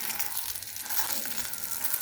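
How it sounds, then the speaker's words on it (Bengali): Eggplant (brinjal) slices frying in hot oil, a steady bright sizzle with crackling spatters, soft and continuous with no voice. "এরকম করে আমি বেগুনটি ভেজে নেব।"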